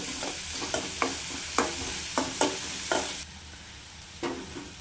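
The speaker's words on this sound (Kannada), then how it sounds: "ಇದು ಒಂದು 2 ನಿಮಿಷ ನೀಟಾಗಿ ಫ್ರೈ ಆಗಲಿ" Onions frying in a pan for a dish made with leftover sprouted legumes, with a steady sizzle broken by a series of distinct stirring scrapes, close and loud, then quieter near the end, no voices.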